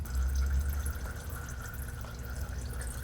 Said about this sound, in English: While that's draining the rest of the way out